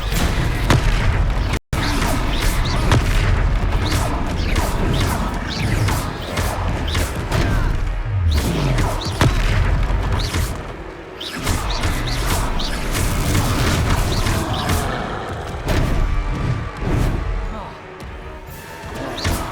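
Confringo fire-blast spells in the Hogwarts Legacy video game, a rapid run of punchy booms and crashing impacts amid a busy combat mix, with a character shouting spell names over the action.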